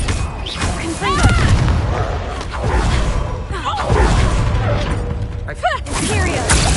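A Confringo fire spell in the game Hogwarts Legacy bursts with heavy booming impacts and whooshing blasts amid combat clatter, loud and close, while voices talk over the action.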